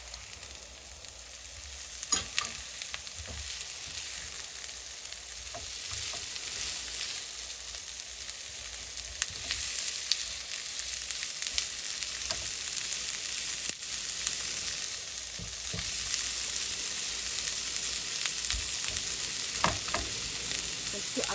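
Capsicum fries in a pan while cooking a loaded baked potato filling, giving a steady, close sizzle with occasional stirring scrapes and clinks, no voices.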